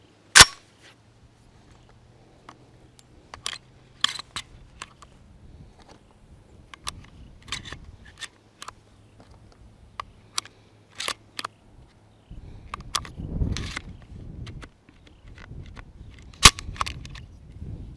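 Shotgun shells are loaded into a Tristar Viper G2 .410 shotgun, giving a series of sharp metallic clicks and snaps spaced irregularly across a quiet background.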